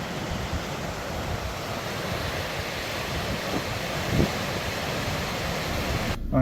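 The swollen Leith River rushes steadily outdoors, a loud, continuous broadband roar of flowing water with wind buffeting the microphone and no voices heard.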